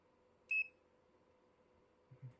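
A new multimeter gives one short, high-pitched beep, clear and alone against a quiet room hum, followed a moment later by a couple of soft low knocks.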